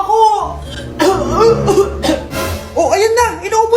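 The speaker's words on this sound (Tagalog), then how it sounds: "Inuubo na." An elderly man coughs in short rough bursts, close and loud, tangled with laughter and lively talk around him.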